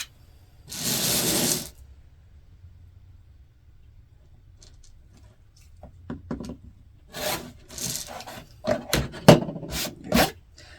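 Rotary cutter or blade trimming fabric half square triangles, two sides at once: a long rasping cut near the start, then a quiet gap and a cluster of shorter scraping and rubbing sounds toward the end, close by with no talk.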